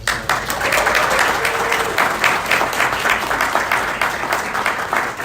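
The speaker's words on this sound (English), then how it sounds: "give everyone a round of applause for introducing themselves" A roomful of people applauds together at a financial literacy gathering, the clapping rapid and loud, swelling and easing slightly over several seconds.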